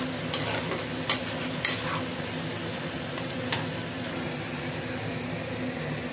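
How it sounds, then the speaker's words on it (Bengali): Chicken and potato pieces frying with ground coriander and cumin in a pan while being stirred: a soft, steady sizzle close by, with a handful of sharp spatula clicks and scrapes spaced apart and no voices. "এবার ভালো করে মশলাটা দিয়ে চিকেনটাকে আর আলুটাকে কষিয়ে নেব।"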